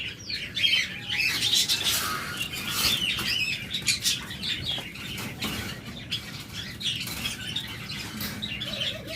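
Caged pet lovebirds chatter and squawk continuously, a dense flock of shrill calls and chirps with occasional wing flutters, close and busy throughout.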